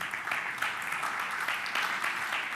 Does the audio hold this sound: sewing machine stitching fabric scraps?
no